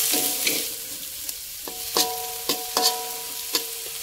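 A splash of water hitting shredded cabbage frying in a pan, sharp hissing sizzles and scattered spatula scrapes at a moderate level, fading quieter between bursts, no talking.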